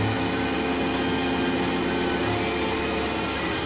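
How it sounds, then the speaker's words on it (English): A 1/8 inch end mill cutting a Viking head inlay pocket into knife metal, a steady loud whine with broadband machining noise held throughout, no talk. "You can see right here I'm using a 1/8 inch end mill."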